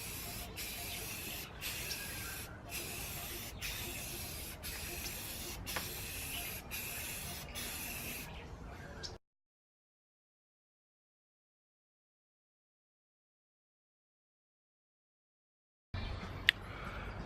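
Self-etching primer sprayed heavily from a rattle can onto a chrome bumper, a close, steady hiss broken by short gaps between passes, then dead silence before spraying resumes briefly.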